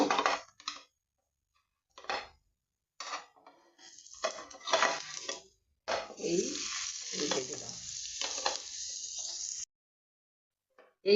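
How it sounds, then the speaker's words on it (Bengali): Radish paratha fries in oil on a pan over low heat, giving off bursts of soft, close sizzling separated by short silent gaps. "তেল দিচ্ছি আর একটু সিমে রেখে করব।"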